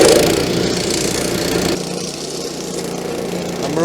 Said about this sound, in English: Honda GP engine